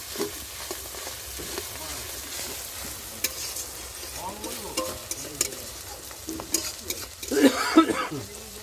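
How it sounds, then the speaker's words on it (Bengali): Ginger and garlic paste frying in a pan at a picnic cookout, stirred with a utensil: steady crackling sizzle with scraping strokes, growing busier and louder toward the end. "এবার এটাকে 3 মিনিট আরও একটু নেড়ে নেব"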